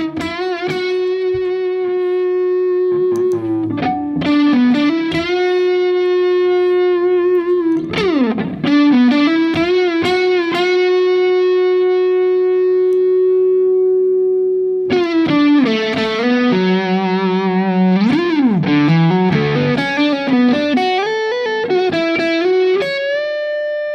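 Electric guitar through a Mesa Mark V amp with gain, mids and master cranked, loud distorted sustained chords and bent notes with a nasal, heavily driven tone, playing alone without talk.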